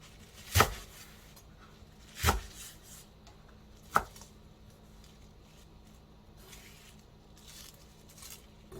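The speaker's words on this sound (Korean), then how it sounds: "부추는 한 줌 정도 준비를 했어요. 약간 길게 썰어 볼게요." A knife on a cutting board chops a handful of garlic chives into long pieces, with three distinct, well-spaced thuds and quiet room tone between them.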